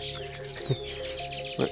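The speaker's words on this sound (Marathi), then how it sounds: "पक्ष्यांचा किलबिला घरटे बघा ते किती आहेत" Birds chirp and tweet near their nests built above a well beside a banana grove in the morning, with quick high calls over a faint steady hum.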